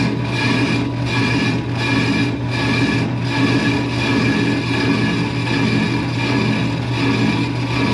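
A brake rotor turns on a brake lathe as the cutting tool feeds slowly outward over its outer ridge, making a continuous close grinding rasp with a faint periodic pulse and no talk.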